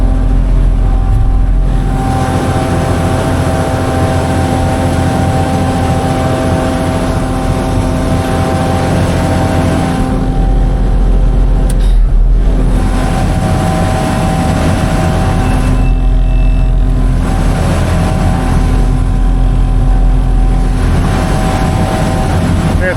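A cotton harvester's saws run on low in a Texas cotton field, a loud, steady machine drone with whirring, tonal hum throughout, dipping briefly a few times as engine load shifts, with a slipping belt.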